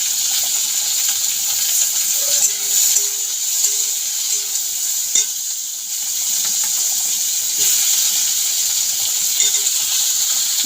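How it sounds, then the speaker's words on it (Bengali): Onion, green chilli and potato frying in hot oil with bay leaf and whole garam masala, a continuous bright sizzle with occasional stirring clinks and scrapes, fairly loud and steady, no talk. "পেঁয়াজটা দিয়ে দেবো, আর সঙ্গে কাঁচা লঙ্কা আলু দিয়ে ভাজা করে নেব।"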